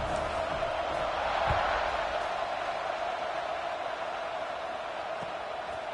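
A dense, steady stadium roar from a college football video game hums without letup, a broad wash of crowd noise with only faint swells and no distinct cheers.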